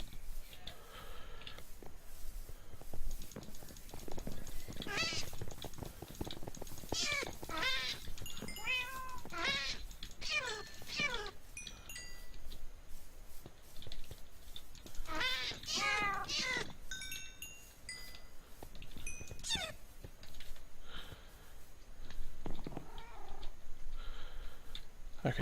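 Ocelot cats meowing in Minecraft, several quick mewing calls in bursts over a steady game background, fairly close and clear, with a pause before a final cluster.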